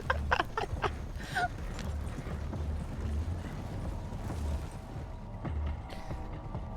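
Horses' hooves clip-clop steadily on the ground in a Red Dead Redemption 2 roleplay, a soft continuous rhythm under low background rumble.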